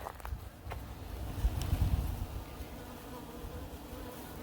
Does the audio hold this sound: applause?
no